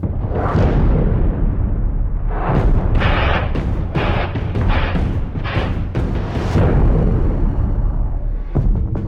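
Loud, continuous rumbling explosions with repeated heavy booming bursts from airstrikes in Lebanon, as if from bombardment nearby, with no voices.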